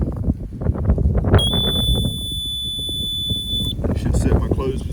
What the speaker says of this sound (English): Right now it's on, that's the beep